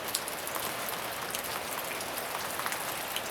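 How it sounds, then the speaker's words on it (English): Steady rain falling outside on a mild day with melting snow, a dense patter of drops striking surfaces, constant and fairly close, with occasional louder individual drips and no voices. "it's a pretty rainy day"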